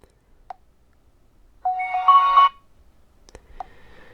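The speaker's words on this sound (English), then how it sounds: "Go for the ringtone to switch to different ringtone." A short electronic alarm ringtone from a Realme GT 7 Pro phone plays a bright melodic chime for under a second amid near silence, with a few faint clicks before and after.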